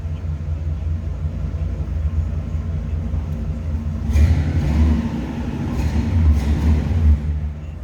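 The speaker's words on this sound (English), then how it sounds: "Nice little throaty exhaust sound coming out of that 326." A 1967 Pontiac LeMans convertible's 326 V8 rumbles low and steady, then revs up twice with deeper, throaty bursts from the exhaust, close by.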